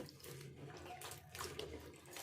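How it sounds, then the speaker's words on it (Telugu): Steady running water splashes and sloshes close by, with broad beans being swished and rinsed in it, continuous throughout. "ఇంకా రెండు సార్లు నీళ్ళు పోసి కడిగి ఇసుకుడిగా కడిగేసుకుందాము"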